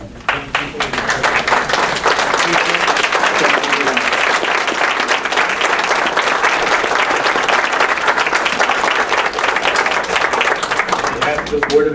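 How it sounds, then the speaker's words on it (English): A standing school board meeting audience applauds honored students, dense sustained clapping from many hands filling the room at a steady loud level, with voices mixed in. "Maybe stand for an applause,"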